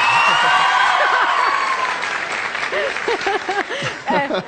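An audience applauds a Kurdish Sorani singer. A fading wash of clapping is joined by overlapping crowd voices and chatter that grow more prominent as the applause thins.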